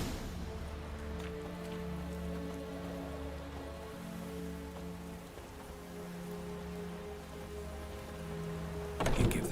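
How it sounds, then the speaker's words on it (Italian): Steady rain patters through a stormy scene in The Witcher 3, a continuous soft hiss under a low hum, with a brief louder burst at the end. "A storm, damn it."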